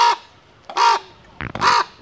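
A common raven harassing a Steller's sea eagle gives three harsh, croaking caws, evenly spaced and fairly close, with quiet gaps between and no other sounds.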